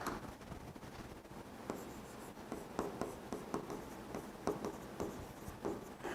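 Chalk or marker strokes on a classroom board during a maths lesson on histograms, a steady run of scratchy taps and squeaks with no talk, close and moderately loud.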